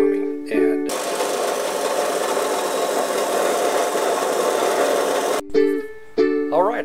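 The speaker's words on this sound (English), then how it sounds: "I'm going to cut a slice of this nut off. I hope I can do this, and that this, saw will do this for me." A saw cuts steadily through a metal nut for several seconds, a dense rasping grind that starts abruptly and stops cleanly, with brief mechanical whirs just before and after.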